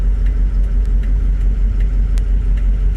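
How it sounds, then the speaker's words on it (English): A car's engine cooling fan whirs steadily alongside the idling engine, a constant low hum and rush with faint periodic ticks, holding even and close throughout with no talk. "Just gonna make sure the fan's actually working too."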